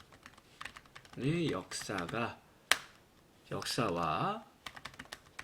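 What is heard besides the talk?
typing on a computer keyboard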